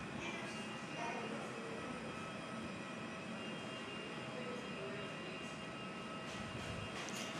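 Aircraft pushing back from a stand at Perth International Airport, a steady distant engine and ground-equipment hum with broad rumble and a faint whine, continuous and fairly quiet.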